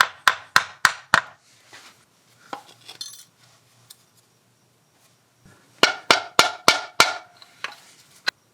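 Metal parts of a Clausing 5900 lathe apron being pounded during teardown: a fast run of four sharp ringing blows, scattered lighter knocks, then another burst of five strikes, close and loud.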